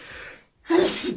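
A single sharp sneeze from a person in a radio studio, preceded by a brief inhale and short pause, close and moderately loud.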